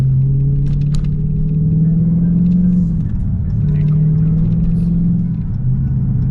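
A Dodge Charger cruises on a highway with a loud, steady low engine drone and road rumble inside the cabin, rising and falling slightly in pitch as the speed shifts.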